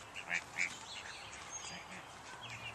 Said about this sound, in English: We're seeing these call ducks.